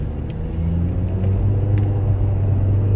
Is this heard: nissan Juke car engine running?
yes